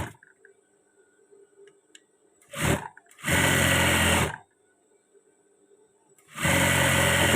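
Sewing machine stitching along the edge of a trouser waistband, running in three loud bursts of rapid stitching separated by quiet pauses.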